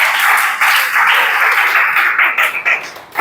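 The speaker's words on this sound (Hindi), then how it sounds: "जोरदार ताली भाई" A class of students applauding together during a Chhattisgarh police recruitment coaching session, sustained loud clapping for about three seconds that thins and tapers near the end.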